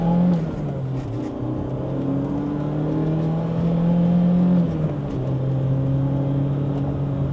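BMW E30 M3 with its S14 engine revving through corners, a loud steady engine drone whose pitch rises and dips with throttle changes, heard from inside the car with no talk.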